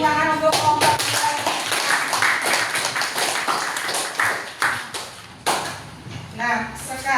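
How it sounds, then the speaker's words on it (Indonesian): A school class claps for a presenting group, with uneven, scattered hand claps that thin into a few separate sharp claps near the end while voices talk over them. "Beri tepuk tangan untuk kelompok kita."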